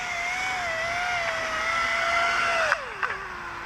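The motors of an SG F35 tilt-rotor drone hum in tricopter mode while it lands, a steady whine that drops in pitch near the end, followed by a couple of brief knocks as it touches down.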